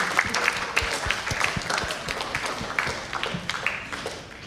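Audience applause breaks out at the close of a conference plenary panel discussion: dense, steady clapping from many hands with scattered sharper claps, continuing for several seconds and slowly fading.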